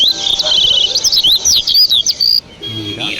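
A bird chirps in a quick, bright run of high tweets repeated close and loud for over two seconds before stopping, followed by a low background hum.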